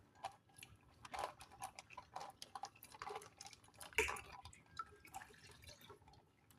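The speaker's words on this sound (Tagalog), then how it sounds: "Hugasan natin yung cellophane kasi sayang yung mga natitira." Water rinses leftover dish soap off a sheet of cellophane during homemade dishwashing liquid prep, heard as faint, scattered drips and small splashes with quiet gaps between them.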